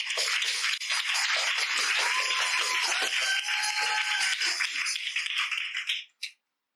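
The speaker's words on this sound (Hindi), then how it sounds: "जोर से ताली बजाओ।" A church congregation clapping loudly and continuously during a Hindi sermon, a dense sustained wash of applause that cuts off abruptly near the end.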